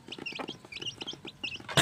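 Jeki Jeger breed chicks clucking and peeping in quick, bright bursts, several birds chattering close by with a rustling thump at the end.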